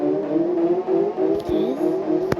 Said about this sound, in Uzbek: Va menga eng yoqadigan mashina.